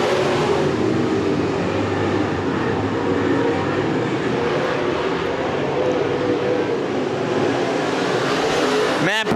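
Race cars roar around the oval at Winston Speedway in a continuous, loud engine drone, with a car sweeping past up close near the end and crowd or announcer chatter blended underneath.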